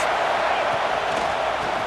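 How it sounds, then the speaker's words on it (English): Football stadium crowd roaring in support of the home defense backed up at the goal line, a steady loud wash of cheering throughout. "the crowd's giving them some juice"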